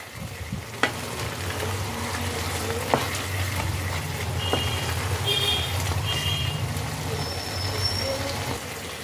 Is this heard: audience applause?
no